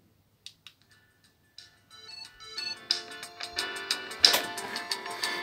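Polyphonic ringtone from a retro Ericsson T18s mobile phone: a few sparse beeps, then a bright, busy electronic melody that grows louder and denser, heard alone and close.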